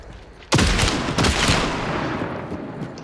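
Shotgun blasts in the Hunt: Showdown video game, two loud booming shots in quick succession with a long rumbling decay, no talk over them.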